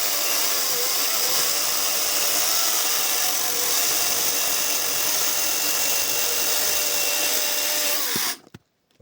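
YATO YT-828132 brushless cordless saw running continuously through wood, a loud, steady high-pitched motor whine with slight pitch wavering, cutting off abruptly near the end.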